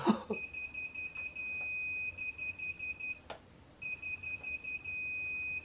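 A high electronic tone from an electric motorbike controller beeps continuously, cuts out briefly after a sharp click, then resumes with the same steady pitch.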